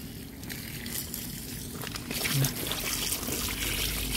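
Water trickles and pours steadily over freshly cleaned durian seeds during washing, a continuous close splashing stream that swells briefly midway.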